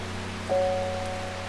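Steady soft rainfall hisses across the scene in the game Strange Horticulture, a constant wash of drops with a low hum and a brief tonal chime partway through.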